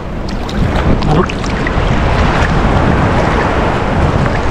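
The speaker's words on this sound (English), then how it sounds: "We've got quite big waves out in the distance." Ocean waves roll in at Pemutih Beach, Bali, a steady broadband wash of surf with the big breakers well out in the distance, continuous and fairly loud, mixed with wind buffeting the microphone and no voices.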